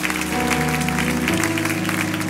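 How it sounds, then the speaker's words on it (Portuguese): Church congregation applauding during a sermon, a steady wash of clapping held close and loud throughout, with music or organ tones sustained underneath. "Aplauda ele é digno de toda a honra"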